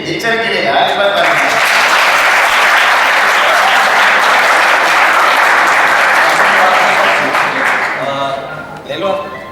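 Audience at a coaching-class event claps loudly and densely, a sustained roar of applause that fades near the end, with voices briefly audible as it dies down.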